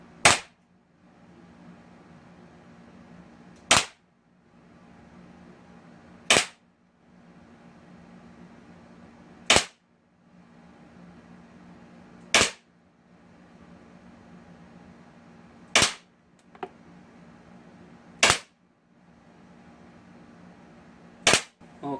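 A Beretta Px4 Storm CO2 pistol fires eight sharp pops at a target, spaced about three seconds apart, loud and close over a faint steady background hum.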